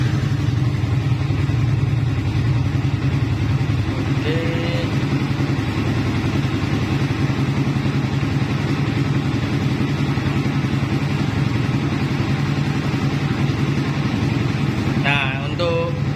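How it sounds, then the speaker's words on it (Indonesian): Motorcycle engine running steadily at idle during a battery charging check, a loud, constant low hum close by for the whole stretch with no revving, under a few faint brief background sounds. "Jadi mesinnya dinyalakan."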